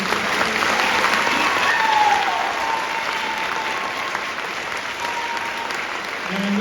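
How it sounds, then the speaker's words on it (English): Audience applause at a school choir festival concert, sustained clapping from a seated crowd filling the hall, fairly loud and steady for several seconds with a faint tone audible beneath. "how about one more round of applause for..."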